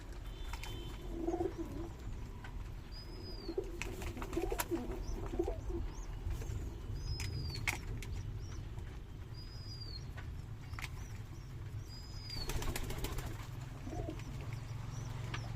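Pigeons in a loft coo repeatedly while feeding their chicks, with soft murmuring calls and a few brief chirps over steady low background noise.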